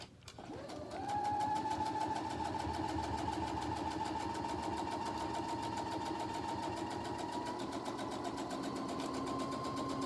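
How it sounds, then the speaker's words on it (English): A sewing machine stitching a seam runs steadily after a brief start, a fast, even mechanical whir with rapid stitching rhythm, close and continuous with no talking. "let me just make a seam really quickly"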